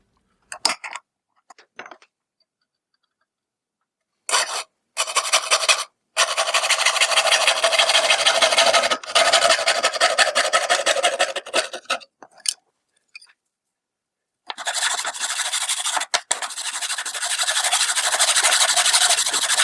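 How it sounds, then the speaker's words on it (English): Hand file working along the edge of a metal power supply part, giving bursts of close, steady rasping strokes separated by short pauses, with a long stretch of continuous filing in the middle and another toward the end. "Now I'm going to start filing the long edge that I messed up, get it flat."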